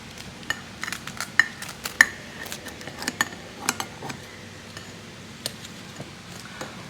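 Cutlery scrapes and clicks against a plate while an air fryer pizza is cut, giving a string of sharp, irregular metallic taps and clinks over a quiet background.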